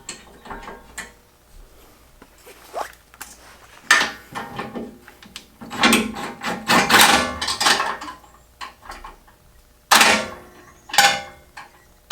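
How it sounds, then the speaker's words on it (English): A ratchet with a 19 mm socket working on bolts while a Reaper Off-Road bumper is fitted to a Jeep Mojave, giving close, loud clicking and metallic ratcheting in uneven bursts with pauses between turns. "19 socket, 19 ratchet, and be mindful of how you place your ratchet so you can get it out after"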